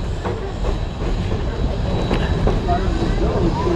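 A loud, continuous rumble of a steam-hauled 1880 Train with seven cars rolling along the tracks from Hill City through the Black Hills National Forest, South Dakota, with faint rhythmic clacks and a thin metallic whine throughout.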